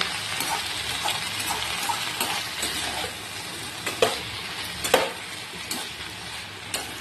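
Mixed vegetables and spinach fry in a pan with a continuous soft sizzle, while a utensil stirs them, making scattered scrapes and sharp knocks against the pan at irregular intervals.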